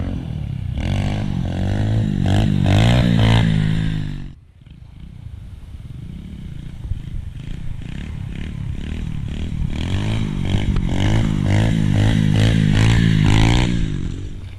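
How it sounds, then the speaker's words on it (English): A pit bike engine revs hard during wheelies on a dirt track, a loud buzzing roar that rises and falls, dips briefly midway, then builds again in repeated throttle surges, close and continuous. "I'm going to do a couple of wheelies and see if it makes wheelies any easier"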